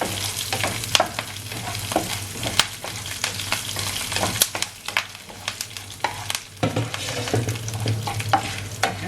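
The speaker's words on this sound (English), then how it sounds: "And then to this I'm going to add my slit green chilies and salt." Slit green chilies and salt fry in a hot pan, a steady sizzle with irregular scraping stir strokes and clicks throughout, close and fairly loud with no talking.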